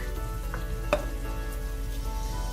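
Ginger and garlic sizzle steadily in a hot pan for a beef shank coconut cashew korma, a close, continuous crackling fry with a brief clink partway through and no talking.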